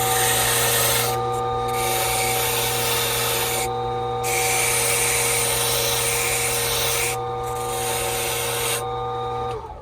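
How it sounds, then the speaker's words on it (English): Buffing wheel on a Silca key cutting machine polishes a freshly cut Ford car key with a loud, steady motor whine and tonal hum, broken by repeated rasping rubs as the key is pressed to the wheel, and no talking. "I'm gonna buff it again"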